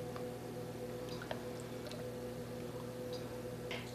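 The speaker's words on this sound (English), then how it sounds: "we're just going to take a pint of oysters and drain them" A pint of oysters drains through a strainer into a bowl, making faint, wet squishing and soft dripping sounds over a quiet kitchen background hum.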